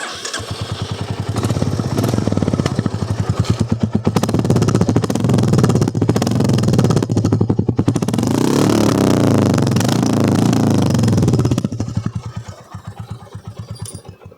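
A Royal Enfield Classic 350 motorcycle engine with stock silencer idles loudly with a steady, thumping rhythm of regular pulses, holding close and even before fading out near the end.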